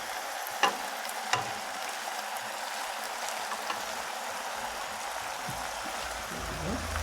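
Bok choy stir-fried in a pan for two servings, with a steady hiss of frying throughout and a couple of sharp utensil taps near the start, plus soft stirring scrapes toward the end.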